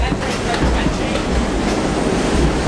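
A passenger train rolls along the rails, giving a loud, continuous rumble with rhythmic clickety-clack from the wheels, as if heard from close by or from inside a carriage.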